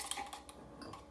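A utensil clinks and scrapes against a container as food is stirred, a few light metallic ticks close by with no talking.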